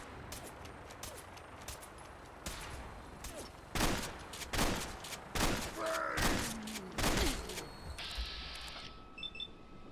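Gunfire in the Fallout 4 video game: a string of sharp, loud shots spaced through the scene, mixed with mechanical game effects and a brief electronic tone near the end.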